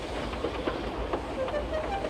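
A steam engine train running in the railway game Sodor Online, a steady rumble with light rhythmic clatter and faint whistle-like tones throughout, with a narrator speaking over it.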